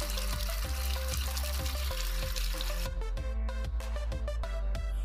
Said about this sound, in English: Wash it in clean water.